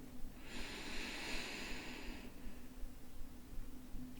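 A slow, deep inhale drawn in through the nose or mouth, a soft airy rush lasting about two seconds, close and quiet, then fading into near silence.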